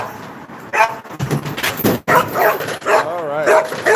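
Several dogs bark, yip and whine excitedly at close range, overlapping in quick bursts, with a person's voice mixed in among them.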